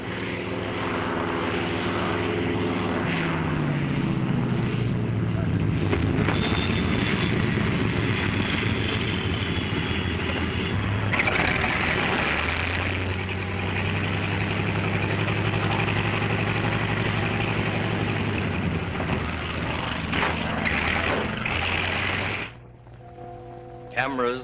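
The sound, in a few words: photographic planes returning and landing on floating bases at sea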